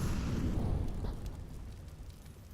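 A frag grenade explodes in the video game Counter-Strike during a BLAST Premier match, a deep rumbling boom that fades out slowly, with no voices.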